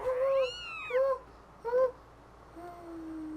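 A remlit, the small cat-like creature from the video game Skyward Sword, gives a string of high, warbling meows: three short rising-falling calls, then a softer, longer drawn-out cry, clear and close.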